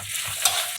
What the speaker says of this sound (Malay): Minyak dah panas, kita masukkan halia,